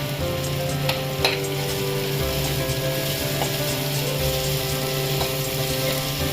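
Bitter gourd sautéing in a pan for a spicy Malvani chutney: a constant, close sizzle with intermittent scraping and clacking from stirring, and no one speaking.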